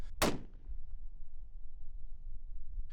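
A single .338 Shy-Tac rifle, a .375 Shy-Tac case necked down to .338 caliber, fires at long range: one sharp, loud report that decays over about half a second, followed by quiet outdoor background.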